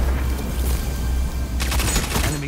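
Grenade blast in a Destiny 2 Iron Banner match: a loud, dense burst of explosive crackle and rumble that swells, then breaks into sharp popping debris near the end, with no talk over it.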